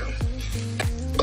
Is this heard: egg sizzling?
yes